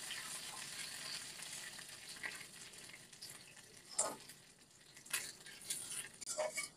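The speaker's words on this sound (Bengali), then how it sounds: "সামান্য পরিমাণে গোটা জিরে দিয়ে দেব। গ্রেট করে রাখা আদা দিয়ে দেব। ফোড়নটাকে আমি কয়েক সেকেন্ড ভেজে নেব।" Whole cumin seeds and grated ginger sizzle in hot oil as a tempering for a spicy taro and potato dish, a steady close crackle with a few sharper pops and light stirring clinks.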